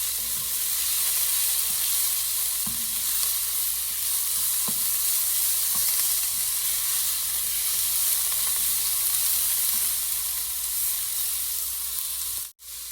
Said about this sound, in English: so now we want to stir this for like 2 minutes